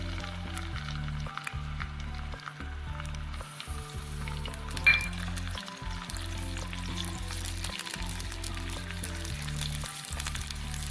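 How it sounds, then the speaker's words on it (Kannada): Onion paste frying in hot ghee and oil, a steady close sizzle with occasional stirring scrapes, no talking. "ಇದೆರಡು ಬಿಸಿ ಆದಮೇಲೆ ಆಗಲೇ ಮಾಡಿಟ್ಕೊಂಡಿದ್ದೀವಲ್ಲ ಆನಿಯನ್ ಪೇಸ್ಟ್ ಅದನ್ನ ಹಾಕೋಣ"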